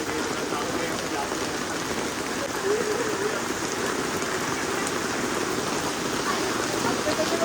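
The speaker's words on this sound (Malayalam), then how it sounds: "ഒരു രക്ഷയില്ലാത്ത മഴ" Heavy rain pouring down near Aman Lodge railway station on the way to the Matheran hill station, a dense, steady roar of drops drumming on surfaces, with faint voices underneath.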